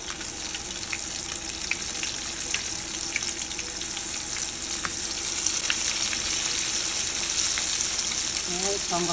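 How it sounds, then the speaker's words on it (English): Chicken pieces fry in cooking oil over medium-low heat, giving a steady, close crackling sizzle with scattered pops throughout, with no talking. "I'm going to let this fry"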